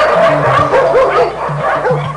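Abandoned dogs at an overcrowded shelter kennel bark and yip repeatedly, several voices overlapping in a steady, close chorus with occasional whimpers.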